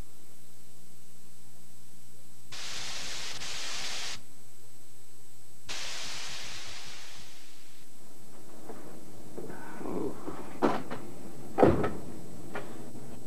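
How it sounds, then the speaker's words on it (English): Wooden dresser drawers pulled out one after another during a cockroach pest-control treatment, giving two long sliding scrapes followed by several sharper knocks and clunks near the end, close and loud with no talk. "I'll tend to the dresser by pulling out all of the drawers"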